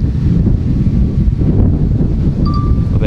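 Strong wind buffets an outdoor spot during a DJI Mavic 2 Pro drone mapping flight, producing a loud, continuous low roar of gusts against the microphone with no talk.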